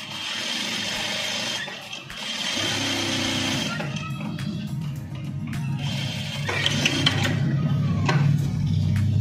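A sewing machine stitches a trouser watch pocket in short whirring bursts. The fairly close motor rises and pauses between runs of stitching.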